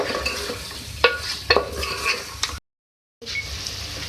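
Beef and yogurt are stir-fried in a pot, with a soft sizzle under scraping spoon strokes and a few sharp clinks against the metal, then a brief gap before the frying resumes.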